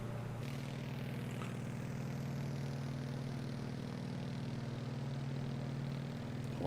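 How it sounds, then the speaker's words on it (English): Steady droning propeller engine of a general aviation aircraft in Microsoft Flight Simulator, flying along the Mexican coastline, a continuous low hum with a pulsing beat that holds evenly throughout. "Going to pause that music so I can actually hear the engines."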